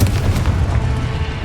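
A Confringo blasting spell goes off in the Hogwarts Legacy video game, a loud, deep, rumbling boom that rolls on heavily without a break.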